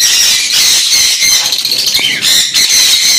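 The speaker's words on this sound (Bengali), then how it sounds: "দেখতে পাচ্ছেন লুটিনো ককটেলের সঙ্গে ব্ল্যাক ককটেলের পেয়ার রয়েছে" Lutino and black cockatiels on a bird farm give loud, harsh squawks in quick overlapping bursts close by.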